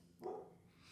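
A single dog bark rings out at a distance, brief and faint against a quiet indoor background.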